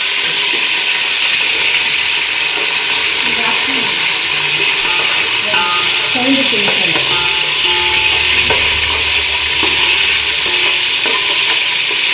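Ground spice paste sizzles in about 50 grams of hot oil for a village-style chicken gravy, with a loud continuous crackle and the repeated scrape of a spoon stirring the pan.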